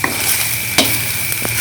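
Kimchi fried rice, Korean kimchi bokkeumbap, being stir-fried in a pan: a steady close sizzle with a couple of quick scraping stirs, no voices.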